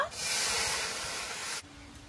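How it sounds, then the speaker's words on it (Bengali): Water poured into a hot kadai gives a loud, steady hiss that starts almost at once, runs for about a second and a half, then cuts off sharply to quiet, with no one talking over it. "কড়াইতে জল দিয়ে দেব।"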